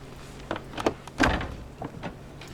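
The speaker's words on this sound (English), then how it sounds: "I'll get the door." A stagecoach door opening and shutting at a staged robbery show, with a few soft knocks and a louder thunk near the middle, fairly close over faint background.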